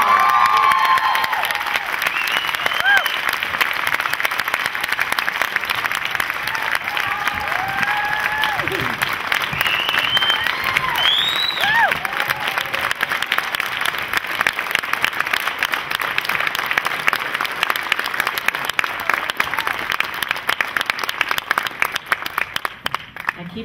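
A theater crowd in Sacramento applauds filmmaker Eric Gladen at a film Q&A with sustained clapping, scattered cheers and whoops rising over it, and voices mingling in the crowd.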